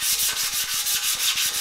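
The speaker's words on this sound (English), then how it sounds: "all I do is rubbing the frame on all areas with my hand" Sandpaper is rubbed by hand across a painted carbon fiber bicycle frame in quick, even back-and-forth strokes, a close, steady scratchy rasp with no voices.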